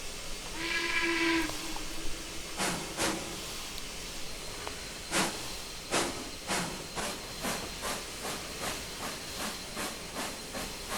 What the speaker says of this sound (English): But it is a single chime whistle here